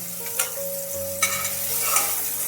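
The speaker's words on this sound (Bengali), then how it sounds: "হালকা করে বেগুনটা ভেজে নিয়েছি, নিয়ে এবার আমি তুলে রাখছি।" Eggplant frying lightly in oil in a kadai, giving a short, even sizzle with a few soft stirring knocks.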